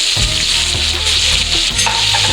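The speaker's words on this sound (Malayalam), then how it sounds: "സവാളയും പച്ചമുളകും ഒരുമിച്ച് ഇട്ട് കൊടുക്കാം." Sliced onion and green chilies hitting hot oil for an Onam masala curry, a loud dense crackling sizzle that fills the brief moment steadily, close with no speech.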